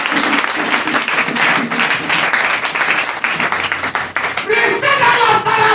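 A church congregation breaks into loud, sustained applause, dense clapping that continues throughout with voices mixed in.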